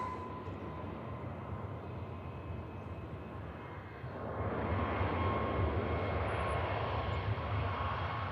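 A Turkish Airlines Airbus A321neo departing Manchester Airport, a distant low jet roar that swells noticeably about halfway through and stays broad and steady.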